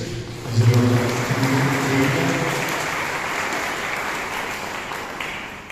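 A church congregation at a seminary and diocese gathering in Kottayam gives a round of steady applause that swells at the start and then holds evenly throughout, with no talking.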